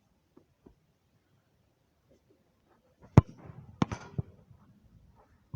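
A football is kicked in a shot on goal on a small outdoor artificial pitch: a sharp, close thump followed by a quick cluster of knocks and bounces, then quiet.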